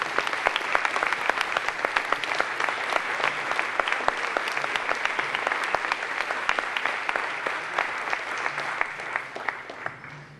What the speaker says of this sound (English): Let's give another round of applause for Bliss Ann Malone Hunter